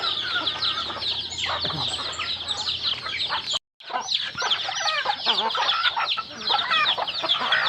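Native chickens cluck and call steadily in a busy farmyard among other kept animals, with overlapping bird noises filling the whole stretch apart from one brief silent gap.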